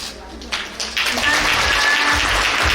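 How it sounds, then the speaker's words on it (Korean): A large audience at a Korean culture and entertainment awards ceremony bursts into applause, a broad, continuous roar of many hands that builds after a brief lull and holds steady and loud. "박수 부탁드려요."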